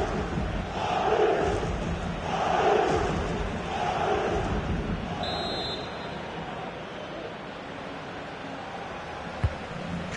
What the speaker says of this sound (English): Well, the crowd are doing their bit.